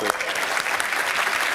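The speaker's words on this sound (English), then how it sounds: "Round of applause, seriously." Audience applause at a tech conference keynote, dense and steady clapping from a large crowd filling the hall, with a faint voice mixed underneath.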